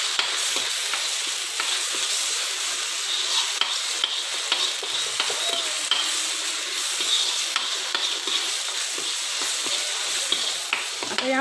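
Onions fry in a pan with a continuous, even crackling sizzle throughout, dotted with small pops and occasional stirring scrapes, no voices over it.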